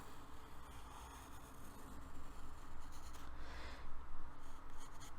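Pencil drawing a circle on paper, a close, continuous scratchy rubbing that swells and fades slightly as the stroke travels around, quiet and alone.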